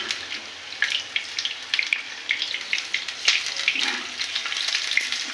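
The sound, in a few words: pumpkin flower fritters frying in oil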